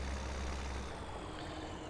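A tractor ploughing in Farming Simulator 17 gives off a quiet, steady low engine drone that holds evenly throughout.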